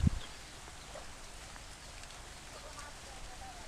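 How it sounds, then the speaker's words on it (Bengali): Rain falling steadily with a soft, even hiss, faint and distant, with a sharp knock at the very start. "মাছ করতে করতে বৃষ্টি এসে পড়ছে"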